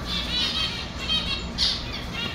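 Taifi jasmine birds, a male and female pair, calling in an aviary, with bright squawking chirps repeating through the clip and one sharper call near the end, over a steady background hum.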